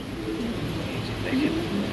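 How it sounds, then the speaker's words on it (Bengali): A white Dragon hen pigeon coos softly in a low, rolling murmur, close but faint, amid light background noise. "সাদা ড্রাগনের একটা মাদি কবুতর দেখেন কত জুস"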